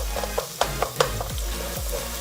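Garlic frying in a pan for a pork and fermented soybean stir-fry makes a soft sizzle under a low hum, with a few sharp spatula taps and scrapes close by.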